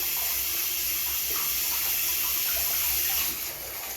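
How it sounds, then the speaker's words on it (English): Water from a tap runs steadily into a sink as hands are rinsed during a head shave, a close, continuous hiss and splash that drops off near the end. "rinse our hands off."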